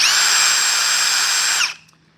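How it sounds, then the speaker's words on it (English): A Ryobi cordless driver whirs at a steady, loud high pitch for about a second and a half without any voices, then stops abruptly and leaves only a faint background hum. "and here's the Ryobi."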